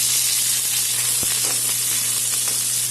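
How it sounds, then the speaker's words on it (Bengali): Onions sizzle steadily in a hot pan of oil, a continuous close frying hiss with a few faint clicks from the pan. "এখন পেঁয়াজটা ভেজে নেব।"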